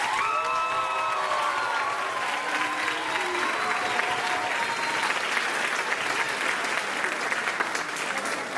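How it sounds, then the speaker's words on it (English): A spring concert audience gives a sustained round of applause, loud and evenly dense throughout, with a few whoops and vocal cheers rising over the clapping early on. "Please give a huge round of applause to Sherry Killebrew."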